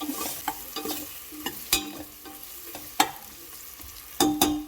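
Sambar masala cooking in a pan with radish, with a soft sizzle under irregular clanks and scrapes of a ladle stirring against the metal, close and without voices.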